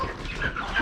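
Farm chickens of several breeds, including leghorns and silkies, cluck and murmur softly in a short, steady stretch of low fowl chatter with no voices.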